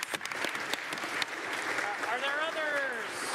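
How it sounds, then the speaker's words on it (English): Applause fills a legislative assembly chamber, a steady wash of clapping from many members with some voices mixed in. "he's still great and deserves our round of applause"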